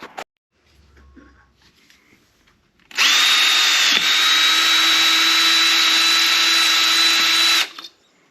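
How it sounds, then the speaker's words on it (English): A power drill boring through metal near the handlebar mount of a Kawasaki Z900 motorcycle: after a few quiet seconds, a loud, steady high-pitched whine runs for about four and a half seconds, then stops. "I'm just going to drill right through there"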